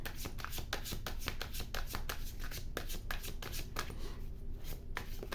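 Rapid, steady riffling and flicking of tarot cards being shuffled close by, a continuous papery patter with no speech over quiet background hiss.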